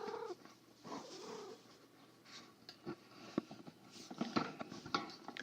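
George the cat makes several short meows and chirps between soft purring and rustling, close and fairly quiet, with no talking.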